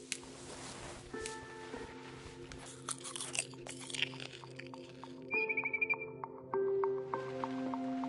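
Crunchy bites and chewing from eating in the video game What Remains of Edith Finch, set against soft tonal chimes and ambient game music, with no talking.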